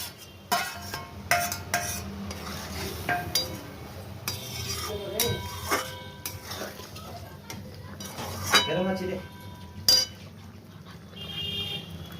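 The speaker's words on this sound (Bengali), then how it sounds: "এবার আমি পটলগুলো দিয়ে দিলাম।" Pointed gourd pieces tipped into a pan for doi potol, with a scatter of clinks and knocks of utensils against cookware, fairly quiet, and a voice speaking in between.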